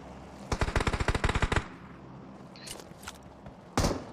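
A rapid burst of automatic gunfire in the mobile battle royale game PUBG Mobile, about a dozen sharp shots in just over a second, followed by quieter game movement sounds and then one more loud blast.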